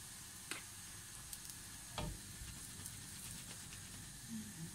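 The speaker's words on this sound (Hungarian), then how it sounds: "minél forróbb a serpenyőd, annál jobban sül a palacsinta" A carnivore keto pancake fries in a hot pan, giving a steady soft sizzle throughout, punctuated by a few brief clicks and taps of utensil handling, with no talking.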